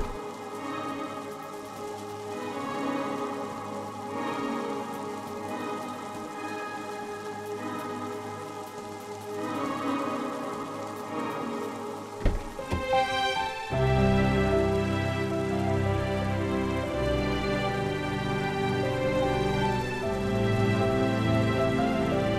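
Steady rain falling outside a house, a continuous hiss of drops on surfaces that grows denser and louder halfway through, with no voices over it.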